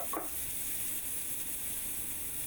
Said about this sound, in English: So you're going to do an initial sear